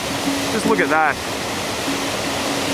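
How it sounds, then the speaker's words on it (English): A waterfall in Patagonia roars steadily, its spray making a dense, constant wash of noise. A person speaks briefly over it. "the spray that's coming off this waterfall is just crazy"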